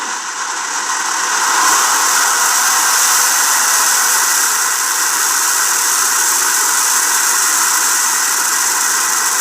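Rocket engine liftoff in the Spaceflight Simulator game: a steady, loud broadband roar and hiss that swells within the first two seconds and then holds without a break, with no voices.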